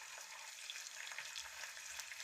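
Meat sizzles steadily in a frying pan, a dense continuous crackle and hiss with faint stirring scrapes, close and fairly quiet, no voices.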